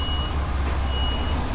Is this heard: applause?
no